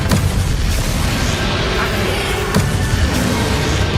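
In a Harry Potter video game, a Confringo blasting spell sets off heavy booming explosions, with sharp bursts near the start and again partway through over a dense rumbling roar.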